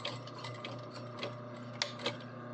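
A sewing machine stitching a sleeve onto a shirt: a soft, steady mechanical hum and whir with light ticking of the mechanism and a few small clicks, close and quiet, with no talking.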